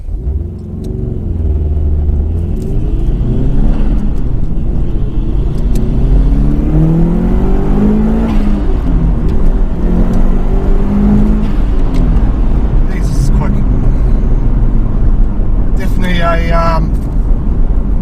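A modified 2002 Subaru WRX STi Prodrive Edition accelerates hard on the road. The engine note climbs through the revs with a deep rumble, and the driver talks over it, up close inside the car.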